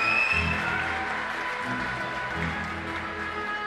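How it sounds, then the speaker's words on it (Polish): A hall of people applauds to welcome school teachers and management, a steady, moderately distant patter of many hands that runs throughout with faint voices mixed in. "Proszę państwa, powitajmy oklaskami szanowne grono pedagogicznej dyrekcje."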